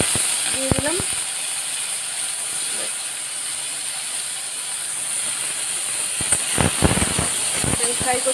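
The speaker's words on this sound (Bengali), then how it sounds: "আমি ফ্রাই করছি দেখো বন্ধুরা" Dried shrimp fries in hot oil with garlic and spices, giving a steady, loud sizzling hiss throughout, with occasional utensil clatter and a brief voice near the start and end.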